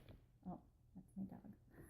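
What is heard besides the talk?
dog whimpering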